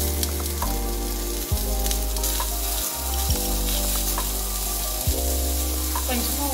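Chopped large onions fry with a pinch of salt in a pan for village-style chutney, a steady loud sizzle running throughout with a few brief stirring breaks and clinks.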